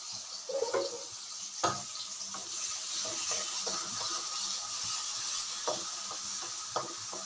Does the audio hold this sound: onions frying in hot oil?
yes